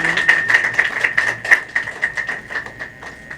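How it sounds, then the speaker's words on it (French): A crowd applauding at a ministerial installation ceremony, a dense, steady patter of claps that holds for a few seconds and then tapers slightly. "on a applaudi plus fort, s'il vous plaît, mesdames et messieurs."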